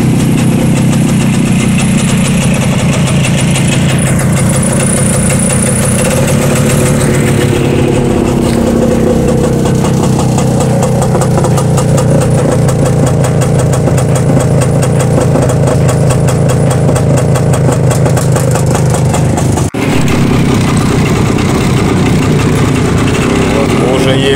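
Engine of a Ural tricycle motorcycle idling loudly and fairly evenly up close, a continuous rough rumble with slight rev variations throughout.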